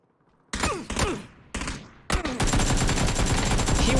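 Gunfire in the battle royale game PUBG: a couple of loud sharp shots, then a sudden sustained burst of rapid automatic fire that keeps going to the end, close and dominant with no talking.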